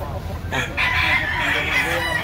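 A rooster at a gamefowl breeder's stand in Carbon, Cebu City crows once, loud and near, a single rising and falling call over faint background noise.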